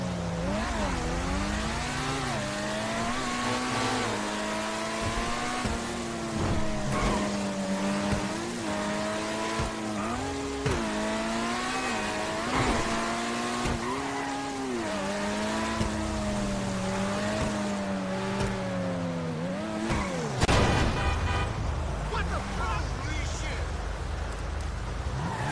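An Overflod Autarch supercar drives in GTA 5 Online. Its engine drones and rises through repeated gear shifts, with tire squeals and a sharp skid near the end.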